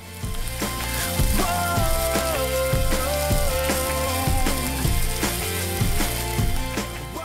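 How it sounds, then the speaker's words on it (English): Onions sizzle and crackle steadily in hot olive oil in a frying pan, a loud continuous frying sound with no voices. "Heat olive oil in a frying pan. Then add onion and saute until softened."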